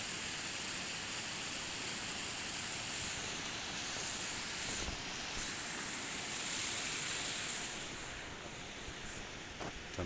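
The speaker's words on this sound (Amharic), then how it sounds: "የውሃ ፍሰትም እንደዚህ ሆኗል።" Water rushes over a river dam beside a waterfall near Entoto Kidane Mihret in Addis Ababa, a constant broadband roar heard from a distance, steady and unbroken throughout with no voices.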